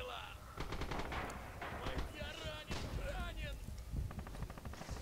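Rapid gunfire in the World War II shooter Rising Storm, bursts of automatic and rifle shots crackling near and far in quick rhythm, with a voice talking over the battle.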